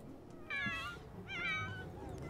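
A cat in The Sims 4 meows twice in quick succession, each call clear and fairly loud with a rising-then-falling tone, over a faint in-game background hum.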